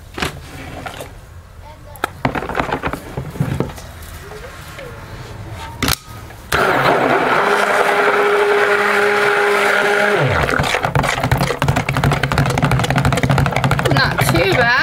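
A stick blender churns soap batter for a white and blue sparkling snow soap, starting as a loud, steady whir about midway after quieter handling sounds, then running continuously and close.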